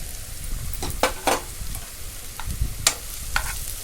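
Mango ginger and fenugreek masala frying and being stirred in a pan for a fresh turmeric pickle, with a steady close sizzle and repeated scraping strokes of the spoon at irregular intervals, no talking.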